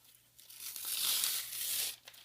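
Wonder Under fusible transfer web having its paper backing peeled away, a continuous crinkly tearing rasp that swells for about a second and a half and then tapers off, close and fairly quiet, with no talking.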